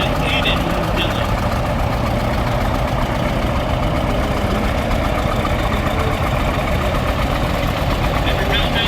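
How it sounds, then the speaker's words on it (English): A 1953 John Deere 70 gas tractor idling in a small-town parade, a steady low engine rumble, close and continuous, with background crowd noise and talk. "Behind is a 1953 John Deere 70 gas, driven by Hayden Dillon"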